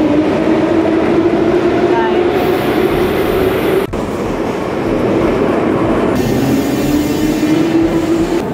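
A Tbilisi metro train rumbles loudly and steadily through a station or tunnel, with a sustained low drone, rail noise and a faint wheel squeal, continuous for the whole stretch.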